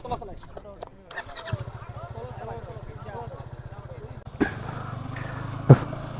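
An oil-cooled Yamaha FZ25 motorcycle engine kicks in and settles into a steady, throbbing idle, its even pulsing rhythm continuing close by. A sharper rev or knock breaks through near the end.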